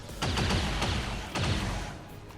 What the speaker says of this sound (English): you're going to die from the explosion,